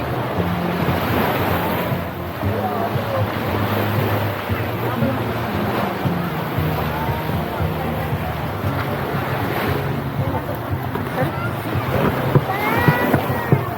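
Ocean surf roars steadily on a beach at Boracay with wind buffeting the microphone, while people talk and call out over the wash of the waves.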